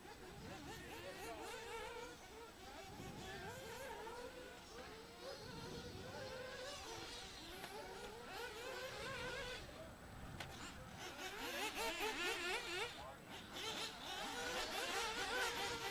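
RC race cars on a warm-up lap at a raceway, giving a thin, buzzing whine that wavers up and down from several small motors, at a moderate distance and steadily present, with voices in the background.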